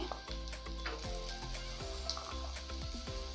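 Chopped onion, ginger and peeled garlic sizzling in oil in a pan, a steady close frying hiss with repeated scraping stirs throughout and no talking.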